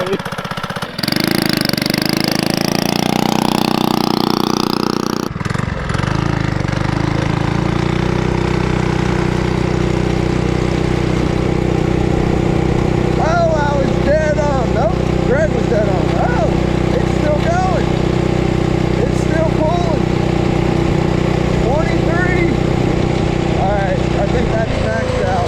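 Lil Rascal mini bike powered by a 79cc Predator engine runs steadily and loudly, a continuous buzzing drone with a brief rev at the start and shifting pitch as it rides.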